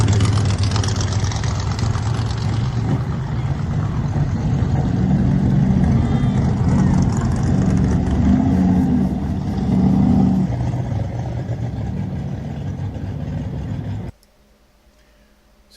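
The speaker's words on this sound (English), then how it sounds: "here's us taking some of the cars out to the track" Race car engines rumble loudly and continuously while the cars drive out onto the Darlington Raceway track, with deep low idling and revving that swells around the middle, then cuts off abruptly near the end.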